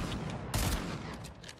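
Gunfire in a Fortnite Desert Zone Wars match: a brief, fairly quiet burst of shots with one sharper crack in the middle, heard over ongoing game ambience.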